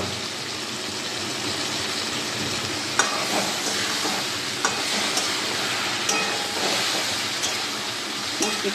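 Shrimp and water lily stems fry in a hot pan with a dense, steady sizzle close by, broken now and then by brief clicks and scrapes of stirring.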